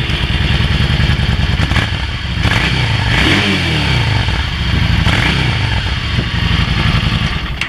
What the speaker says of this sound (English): So just enough noise to let you know it's a V-twin.